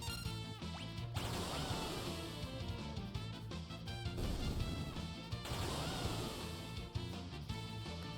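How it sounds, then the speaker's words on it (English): Crashing, smashing beam attacks from Final Fantasy VI Pixel Remaster, a dense, loud burst of game effects over a steady musical backdrop, with two sharp breaks where the sound cuts and restarts. "I do like the new sound effect on the beams too."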